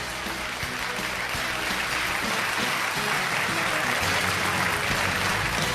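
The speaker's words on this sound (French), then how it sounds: "On les applaudit bien fort." A school audience claps for two competing middle-school quiz teams, a dense, steady applause sustained evenly throughout at close range.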